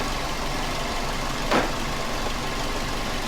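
A car engine idles quietly and steadily, giving a faint, even low hum throughout with one brief soft rise in the middle.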